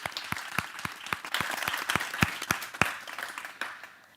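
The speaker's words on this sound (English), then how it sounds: "please welcome with an applause" A small audience at a leadership talk applauds to welcome guests, with sparse, distinct individual claps at a fairly quiet level that continue steadily for a few seconds.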